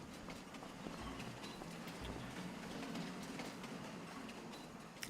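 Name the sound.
train arriving in Farming Simulator 25 video game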